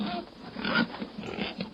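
Farm pigs grunt and snort in a quick cluster of low, rough sounds, close by and fairly steady throughout.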